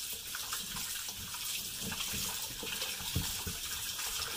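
Tap water runs steadily into a sink while a whole catfish is washed, a continuous close splashing flow with small irregular bumps as the fish is handled, and no talking.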